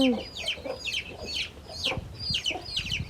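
A hen leading her chicks through a hole in the woods gives a run of close, repeated clucks in short irregular bursts, with faint rustling underneath.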